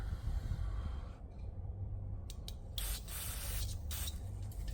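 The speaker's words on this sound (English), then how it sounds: "hit it with a shot of air" Short bursts of compressed air blowing on a Honda CRF70F carburetor, soft hissy puffs over a low background rumble, quiet and close with no voices.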